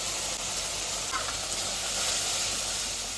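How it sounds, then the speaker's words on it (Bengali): Green chilies, ginger and cumin sizzling as they fry in hot oil, a loud, steady, close hiss that barely varies throughout. "আর কাঁচা লঙ্কা আদা এটা আমি তেলে দিয়ে দেবো"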